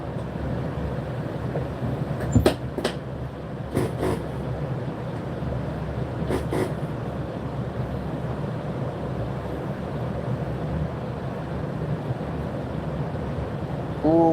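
Steady low rumble and hum of a Great Western Railway class 165 diesel unit running on a service to Exeter St Davids in Devon, continuous interior drone with a few brief clicks and knocks, no talking.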